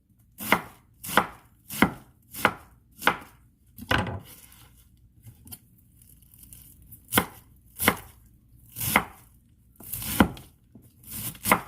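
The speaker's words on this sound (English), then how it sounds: "I'm making a ground beef bulgogi wrap with cabbage. I'm gonna slice this very thinly." A knife thinly slices cabbage on a board for a ground beef bulgogi wrap, giving crisp, evenly spaced chops close by, a brief rustle and a short pause, then more single cuts; no one speaks.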